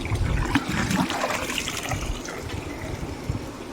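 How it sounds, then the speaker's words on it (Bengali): Water trickles and splashes steadily as garden plants are watered slowly, a soft, close, uneven pouring sound with small gurgles and no speech. "এই গাছগুলো এবার আস্তে আস্তে অল্প অল্প করে জল দিয়ে দেবো"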